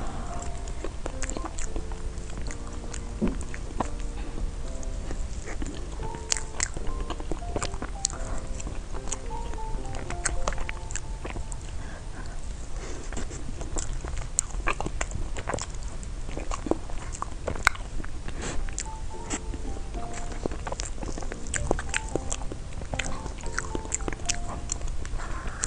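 Someone bites into and chews warm tea cake, with repeated soft crunching and mouth sounds up close, over a constant background of music or noise.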